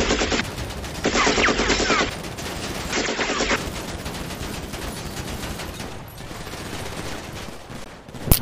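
Rapid gunfire in the video game GTA V roleplay, with loud continuous bursts of automatic shots at the start that trail into lighter scattered fire and a final sharp shot.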